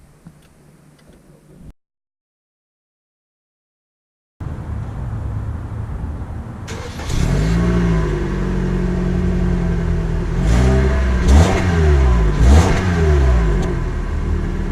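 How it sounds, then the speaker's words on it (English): A 2019 Toyota RAV4 Adventure accelerates on the road. The engine note rises loudly and steadily after a brief silence, with a ticking layered over it. "now that we're done going over the main features of the 2019 RAV4, let's take it out to see how it drives"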